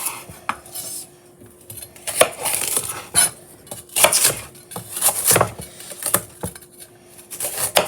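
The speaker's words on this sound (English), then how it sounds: "So we are cutting the celery." A knife chops celery on a cutting board in a kitchen. Irregular bursts of close, crisp clicks and knocks against the board come with faint clatter of utensils, and no one talks.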